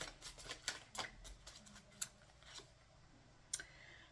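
Oracle cards being shuffled by hand, heard as a quiet run of soft, irregular riffling clicks and flicks at close range with no talking.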